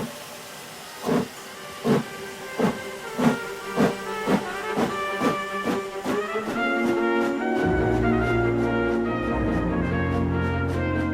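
A steam locomotive chuffs in rhythmic, accelerating puffs, then settles into a continuous loud hiss of steam with a tonal whistle-like hum.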